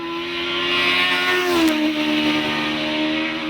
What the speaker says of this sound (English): and Paddy opens the taps on the 1052 Suzuki unit as they head for the line.